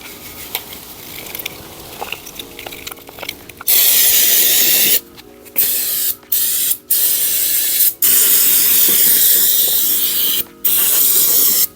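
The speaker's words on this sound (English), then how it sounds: "I'm gonna throw some throttle body cleaner on this and get it all shined up" Throttle body cleaner sprayed onto a Porsche V8 throttle body, loud close aerosol hissing in several long bursts with short pauses between them.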